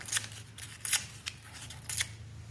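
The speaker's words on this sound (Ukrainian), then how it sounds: "Для цього від паперів відриваю знову вузькі смужки." Paper torn by hand into narrow strips and small rectangles for a cake collage craft, a few short rasping rips spaced apart against a low steady hum, close and moderately quiet.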